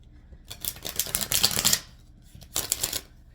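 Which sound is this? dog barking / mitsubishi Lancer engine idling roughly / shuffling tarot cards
shuffling tarot cards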